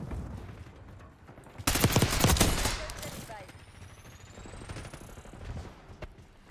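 A sudden loud burst of rapid gunfire in the video game Call of Duty Black Ops 6 crackles for about a second, then tails off into quieter in-game ambience with a few faint whooshes.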